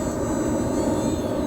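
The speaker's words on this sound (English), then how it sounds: "This will be our third takeoff." An H-King Savage Bobber compact STOL RC model airplane with a 1000mm wingspan runs its electric motor at a steady high whine during takeoff, close and loud throughout with no talking.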